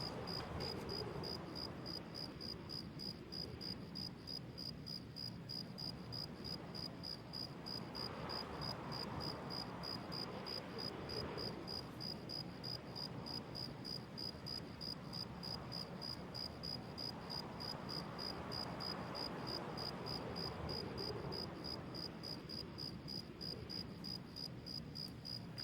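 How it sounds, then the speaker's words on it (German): Crickets chirp steadily and faintly through a night scene in Escape from Tarkov, a continuous high pulsing trill over quiet ambient hiss, with no talk. "Wir hören jetzt einfach mal den Grillen zu."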